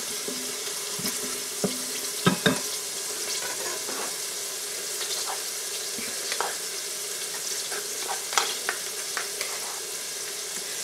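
Two eggs scramble in a small frying pan, a soft continuous sizzle with occasional scraping and tapping of a utensil against the pan, fairly quiet throughout.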